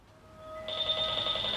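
A phone rings with steady electronic tones that grow louder partway through and then hold a bright, continuous ring. There is no talk over it.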